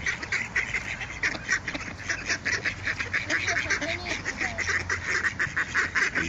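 Wild ducks being fed by hand, quacking and honking in a dense, continuous chorus close by, with rapid overlapping calls and faint human voices underneath.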